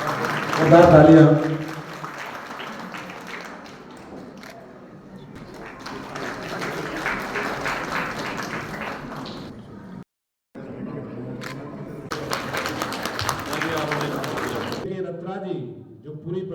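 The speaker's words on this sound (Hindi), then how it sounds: "तालियां।" An audience claps at a social welfare society's 27th foundation-day ceremony, with patches of crisp applause rising and falling while a voice keeps talking over it.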